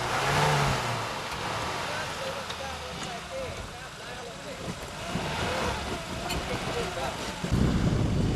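A 4x4 car's engine revs hard as the vehicle accelerates across a muddy off-road track, the roar rising and surging over rough rumbling, while people talk over the noise.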